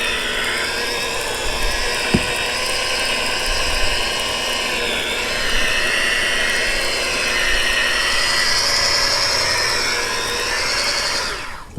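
Rotary polisher running steadily at slow speed, around 600 RPM, on the hull of a 1992 bass boat, a loud continuous whirring drone with a brief tap early on and the motor winding down at the end.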